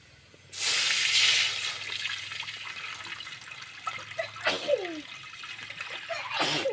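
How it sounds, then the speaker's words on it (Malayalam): Water poured from a vessel into a cooking pot for ghee rice: a steady close gush starting abruptly and running for several seconds, with small splashes and clinks near the end. "രണ്ട് പാത്രം വെള്ളം അങ്ങ് ഒഴിച്ചു കൊടുക്കാം"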